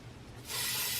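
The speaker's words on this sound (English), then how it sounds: "Oh, first thing I wanted to do was spray the workable fixative." Workable fixative sprayed from an aerosol can onto a pastel painting: a steady, close, loud hiss that starts about halfway through and continues to the end, with no talk.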